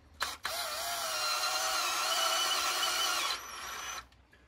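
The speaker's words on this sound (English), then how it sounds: "set my clutch down nice and low so I don't just eat a bolt cutting new threads" A power drill with its clutch set low taps new M6 threads into a bolt hole on a two-stroke oil pump, a loud, close, steady whine lasting about three seconds before easing lower and stopping.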